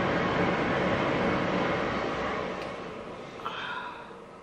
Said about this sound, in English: Waiting for the train.